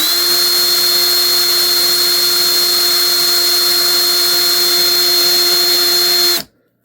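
A power drill whines at a steady high pitch, running continuously and close for several seconds before cutting off abruptly, leaving silence.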